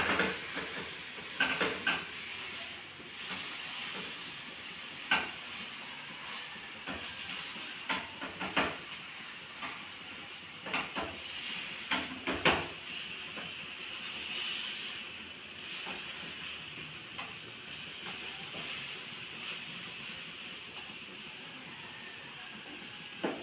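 Banana snack pieces fry in a pan with a soft, steady hiss, while scattered clicks and taps mark the pieces being flipped one by one.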